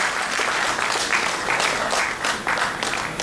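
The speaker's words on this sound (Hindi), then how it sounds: "उनसे गुजारिश करूंगा जोरदार तालियों से आप उनका स्वागत करें। सैयद शाहनवाज।" A crowd at a community gathering breaks into loud, enthusiastic applause to welcome a speaker, a thick continuous clapping with surges in intensity throughout.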